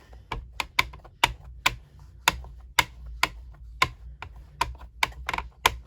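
A rubber stamp is tapped repeatedly onto an ink pad for Stampin' Up card making, giving a close series of sharp, irregular dabbing taps with no talking.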